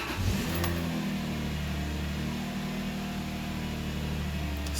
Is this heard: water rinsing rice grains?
no